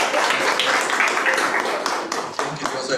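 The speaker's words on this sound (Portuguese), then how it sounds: "Vamos dar um forte aplauso ao Senhor" A church congregation at a worship service breaks into strong, continuous applause that fills the room from start to finish, with voices calling out amid the clapping.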